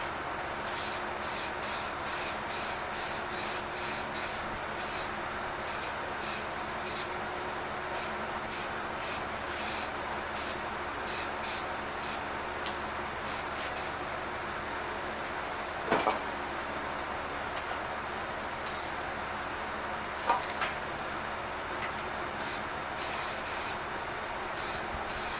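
Spray paint goes onto a truck as a first coat, heard as a steady hiss broken by bursts of quick, rhythmic spraying pulses, with a couple of faint knocks partway through.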